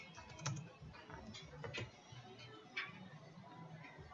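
Quiet typing on a computer keyboard in a lab exercise, a short run of soft, irregular key clicks with a few slightly louder taps, heard close and alone.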